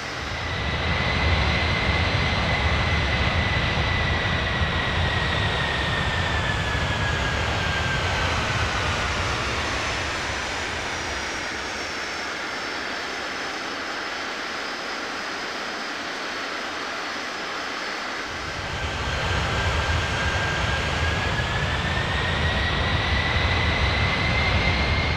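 An AeroSur jet airliner arriving at Santa Cruz Viru-Viru airport roars past with a loud, sustained engine rush and whining tone, easing quieter midway before swelling again, heard from the ground without speech.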